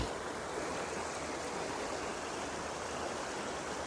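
A muddy, brown river runs past in a steady, even rush of water, faint and unbroken throughout with no voices.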